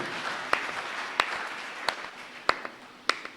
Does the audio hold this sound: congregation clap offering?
yes